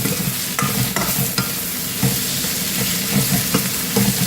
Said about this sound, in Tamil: வெங்காயம் அதுவே வதங்கட்டும் எண்ணெயிலே வதங்கிறத தவிர